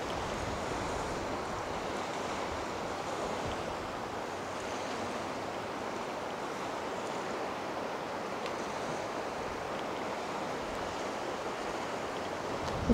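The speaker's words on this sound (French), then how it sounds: "Et il y a des vagues" Steady wash of waves breaking on a shore by the citadel at Blaye, France, with a constant hiss of surf and some wind buffeting the microphone, no voices.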